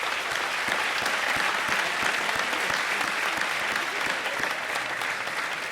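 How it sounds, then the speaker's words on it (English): An audience at a 2017 academic awards ceremony gives a sustained round of applause, dense steady clapping filling the hall from start to finish. "Give yourself another round of applause"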